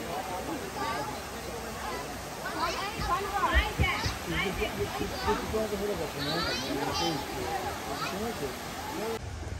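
Cunningham Falls, a large waterfall in Thurmont, Maryland, gives a steady broadband rush throughout, mostly buried under close, excited talk and the chatter of several people nearby.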